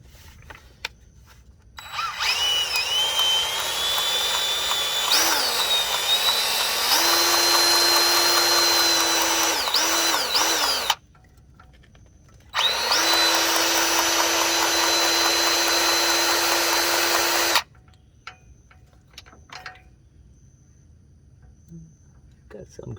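A DeWalt DCG571 cordless grease gun whines loudly up close in two long motor runs with a steady rising pitch, separated by a short pause and then quiet.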